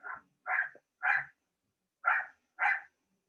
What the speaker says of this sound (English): my dog barking like crazy now.